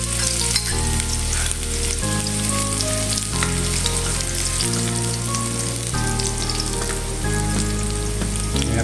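Garlic frying in hot oil for a Filipino ginisang upo with sardines, a steady loud sizzle with crackling that runs throughout, plus a few brief scraping stirs and no talking.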